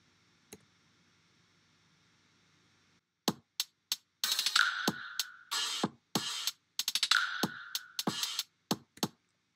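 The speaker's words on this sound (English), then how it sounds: "I used a total of 7 drum samples that include kick, 2 snares, snaps, closed hats, open hats, and a lo-fi clap." Lo-fi drum pattern built from seven samples: a kick, two snares, finger snaps, closed and open hi-hats and a lo-fi clap, playing as a loose, irregular run of sharp hits after a few seconds of faint hum.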